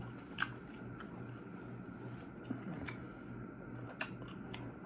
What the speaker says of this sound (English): Hold on, this meat is really hard to chew.